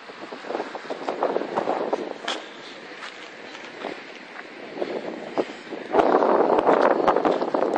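Wind blowing outdoors and buffeting the microphone in a steady rushing roar that swells louder toward the end, with no talking.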